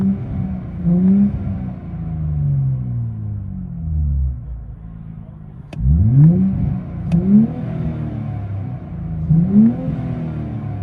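Straight-piped 2023 Nissan Z with a 3.0 twin turbo V6, heard from inside the car as several loud revs rise and fall, with sharp pops between the pulls and no talking.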